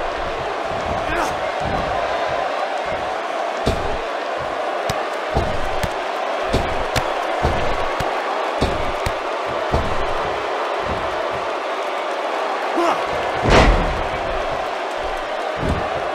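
A wrestling arena crowd keeps up a steady, dense roar with scattered sharp slams and thumps, building to a loud burst near the end.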